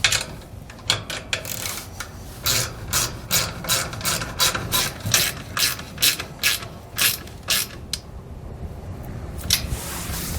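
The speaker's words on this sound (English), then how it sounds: "Then we just come back with a socket and snug them down." Socket ratchet snugging down hex nuts on an LED trailer tail light, a steady run of loud, close clicking bursts in regular rhythm, pausing briefly near the end before a final few clicks.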